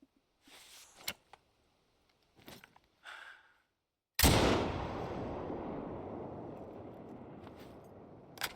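Sharp isolated rifle shots aimed at crocodiles in TheHunter Call of the Wild on the Emerald Coast, a few small cracks and breaths first, then one loud close blast with a long rolling echo that slowly fades.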